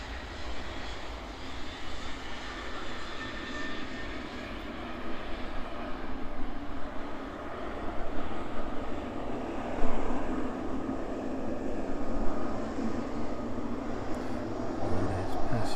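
A large aircraft touches down and rolls past at East Midlands Airport in the evening, a continuous loud engine roar that swells and lingers with broadband rumble, steady throughout without clear speech.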